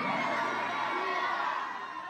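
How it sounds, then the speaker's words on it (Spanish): Concert audience in a high school auditorium shouting and cheering together, a dense, continuous wall of crowd voices filling the hall, loud and steady before tapering slightly. "mucha gente empezó a gritar"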